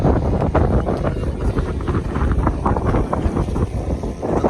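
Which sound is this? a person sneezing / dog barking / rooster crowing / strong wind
strong wind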